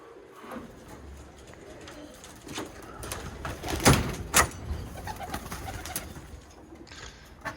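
Birmingham Roller pigeons in kit boxes coo softly nearby, with low throaty calls and a few sharper flutters or knocks rising above a quiet room background.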